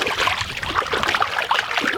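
Fish being rinsed in clean water at a sandy shore, a steady close trickle and swish of water with small splashes, continuous and moderately loud with no talking.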